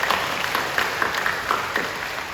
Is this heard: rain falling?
no